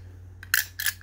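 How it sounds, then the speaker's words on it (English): Plastic gears inside a vintage 1979 Kenner droid action figure click in two short, close bursts of crisp mechanical ticking separated by a brief pause, with no talking. "the gears click that little plastic gear"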